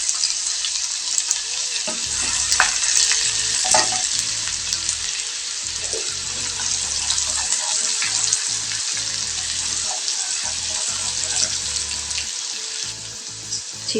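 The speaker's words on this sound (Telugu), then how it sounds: "ఇప్పుడు పచ్చగా దంచుకున్న వెల్లుల్లి వేద్దాం. అలాగే సన్నగా తరుక్కున్న ఉల్లిపాయ ముక్కలు వేద్దాం." Crushed garlic and finely chopped onion dropped into hot oil in a pan, a loud, close, continuous sizzle with occasional stirring clatter throughout.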